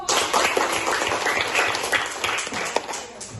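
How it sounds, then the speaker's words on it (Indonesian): Dense, fairly quiet applause from schoolchildren in a primary school classroom clapping for a classmate, a continuous patter of many hands throughout. "Tepuk tangan untuk teman kamu"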